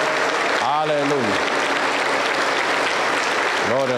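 Applause from a church congregation at a Pentecostal service in Junín, Peru, steady and broad throughout, with voices rising over it near the start and again at the end.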